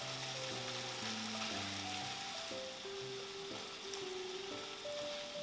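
Shrimp for paella sizzle on a hot plate with garlic, a steady crackling fry over a soft hum and no talking.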